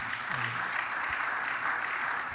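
A church congregation applauding to acclaim the Lord during a testimony service: steady, dense clapping throughout, moderately loud and even, with a brief low vocal sound near the start.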